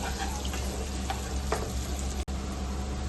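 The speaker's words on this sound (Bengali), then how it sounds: "এটা আপনাকে মোটামুটি ফ্রাই করতে হবে যতক্ষণ না এটা নরম হয়ে যাচ্ছে, একটু হালকা ব্রাউনিশ ভাব আসছে" Something fries steadily in a pan until it turns soft and lightly browned. A close, even sizzle holds throughout with only one brief break, and no one speaks.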